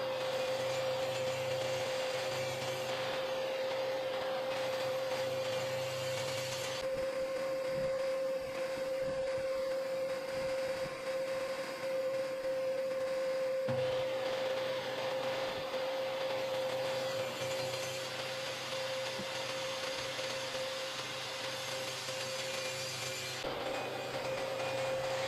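A wooden board being ripped lengthwise into two pieces with a power saw, with a steady tonal motor whine and rough cutting noise that shifts in intensity over a long continuous pass, no talk.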